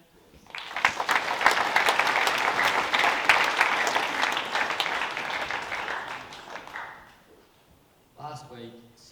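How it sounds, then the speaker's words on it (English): Applause from students at a college assembly, a dense sustained round of clapping that swells, holds for several seconds and tapers off, followed by a voice beginning to speak. "Please give Jack and Ewan a round of applause."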